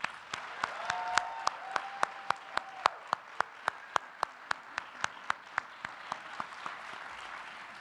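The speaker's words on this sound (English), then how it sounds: "give yourselves a round of applause and congratulations" At a Columbia Business School class day ceremony, one clapper close by beats out loud, regular claps in a steady rhythm over a faint, distant wash of crowd applause.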